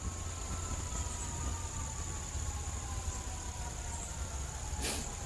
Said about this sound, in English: Already you may hear a siren in the background.